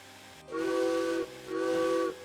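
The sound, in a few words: steam locomotive whistle in video game Derail Valley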